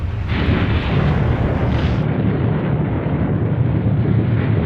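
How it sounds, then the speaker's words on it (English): A deep, rumbling video game explosion that roars on as a dense wash of noise, like a large blast with debris and wind, loud and unbroken, in a snowy setting. "Sounded like an explosion."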